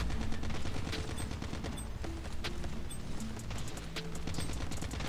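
Dense, rapid gunfire from a sniper shotgun in COD Mobile's Undead Siege mode, a steady barrage of sharp reports layered with game effects and no pauses.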